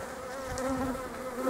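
Honey bees hum around a beehive in a spring apiary, a dense steady close buzz with wavering pitch and no voices.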